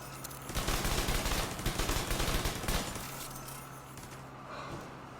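A turret in a video game fires a rapid, dense stream of shots for about two and a half seconds, loud and close, then gives way to a fainter continuing rattle and hum.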